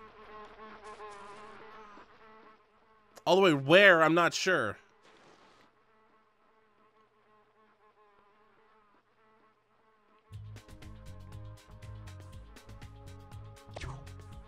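Bees buzz in the video game Spyro: Enter the Dragonfly, in the Honey Marsh level, a wavering insect drone heard early and loudest in a short burst, with game sounds and a brief spoken line around it.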